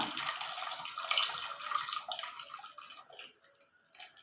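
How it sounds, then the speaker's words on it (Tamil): Tamarind water poured into a fish curry as it cooks, a brief close splashing gush of liquid that gradually thins out. "புளி கரைச்சி வச்சுருக்க புளி தேவையான அளவு புளி ஊற்றிக்கலாம்"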